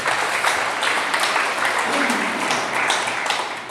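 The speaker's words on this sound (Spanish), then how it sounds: "Denle un aplauso a Dios por eso." A church congregation breaks into steady, dense applause that fills the room, with a faint murmur of voices underneath.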